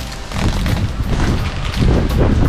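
Wind blowing outdoors in rainy, cold weather on a farm, a loud roaring gust buffeting the microphone with heavy low rumble, continuous and close throughout.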